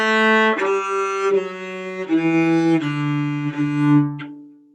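A bowed string instrument plays a simple beginner exercise from a string basics lesson, a steady sequence of about six sustained notes stepping down in pitch, clear and close with no talking.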